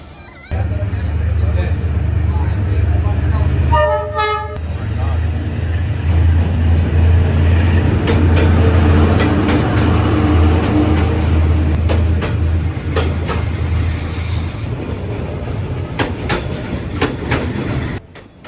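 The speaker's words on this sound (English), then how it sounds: "Canadian Pacific's 19th annual holiday train made a stop at the Harwood Avenue crossing in Wauwatosa" Canadian Pacific's holiday train rolls through the Harwood Avenue level crossing in Wauwatosa, a loud steady rumble with clanking wheels and a brief ringing crossing bell, while a crowd murmurs nearby throughout.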